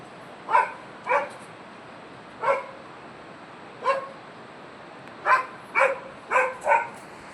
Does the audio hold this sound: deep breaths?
no